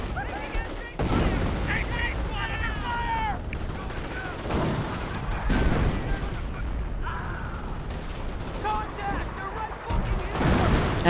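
Machine gun and artillery fire crackle through a WWII strategy game battle, with scattered bursts and heavy booms over constant background noise, while a voice talks over parts of it.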